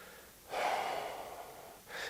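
A single slow, soft exhale during a yoga forward fold, close and quiet, with a new breath starting at the end.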